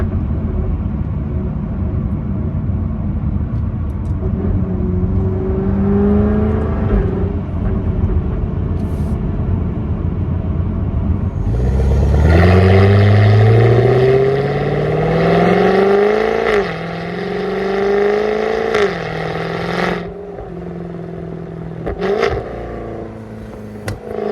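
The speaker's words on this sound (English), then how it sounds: "Go ahead and shut the windows so you can hear." A Jaguar F-Type R engine hums steadily, then revs hard with a deep roaring exhaust, rising and falling through several gear changes, with occasional pops, heard from inside with the windows up.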